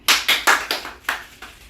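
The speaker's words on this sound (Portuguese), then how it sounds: "Agora eu vou bater 2 palmas" Six sharp hand claps in an uneven rhythm within under two seconds, close and distinct, with no talking.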